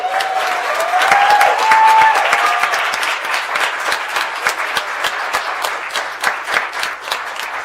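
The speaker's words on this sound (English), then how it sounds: "Let's clap it up for Ms. Dovell." An audience at a school board meeting applauds an honoured high school English teacher, a steady, fairly close round of clapping that runs for several seconds, with a voice speaking briefly over the start.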